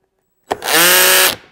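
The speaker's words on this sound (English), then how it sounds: "We'll go full drill mode." A cordless drill revs at full speed in drill mode, with no clutch engaged, starting with a sharp burst and holding a steady high whine for about a second before spinning down, loud and close.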